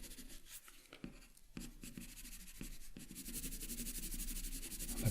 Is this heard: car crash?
no